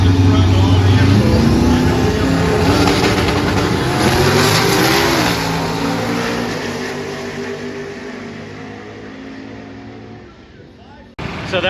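A drag racing car launches hard at Irwindale Dragstrip, its loud engine revving and climbing through a gear before fading into the distance, with a brief clunk and the crowd ambience returning at the end.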